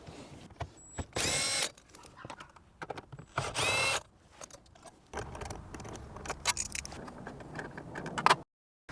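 A power tool whirs in two short, loud bursts as 10mm bolts come out of a Toyota Crown dashboard, with metallic clicks, rattles and handling noises between and after, close by.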